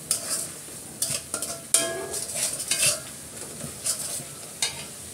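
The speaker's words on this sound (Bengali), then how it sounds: "আমি ভালো করে মশলাটা কষিয়ে নিচ্ছি।" Spices frying in a pan with cinnamon, cardamom and a bay leaf, stirred vigorously, giving a close sizzle broken by repeated spatula scrapes and clinks against the metal.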